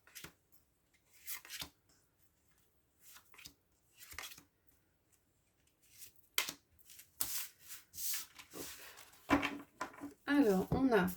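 Tarot cards are shuffled and drawn in a quiet room, soft scattered flicks and rustles building to a denser riffle near the end, while someone speaks French in between.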